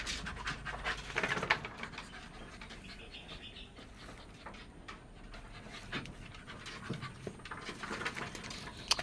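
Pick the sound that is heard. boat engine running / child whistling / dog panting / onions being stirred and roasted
dog panting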